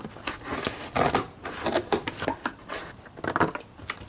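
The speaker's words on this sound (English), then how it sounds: "Cutting a square out of the front of the box." Scissors cut a square out of the front of a cardboard box, giving irregular snips, crunches and rustles at close range over several seconds, fairly quiet.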